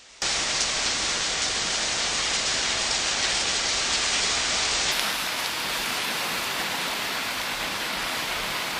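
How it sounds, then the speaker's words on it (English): Heavy rainfall during flash flooding in Sichuan, China: a dense, continuous rushing wash of rain, loud and steady throughout with no voices. "Rainfall."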